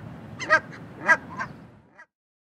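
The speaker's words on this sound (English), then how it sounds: "Canada goose." A Canada goose honks twice in loud, close, nasal blasts, then gives a softer, trailing call before falling quiet.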